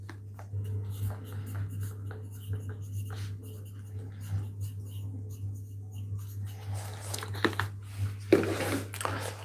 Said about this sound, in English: I'll write it down, man.